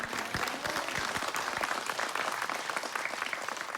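Studio audience clapping on a Korean TV variety show, brisk individual claps audible near the start before settling into a dense, steady round of applause.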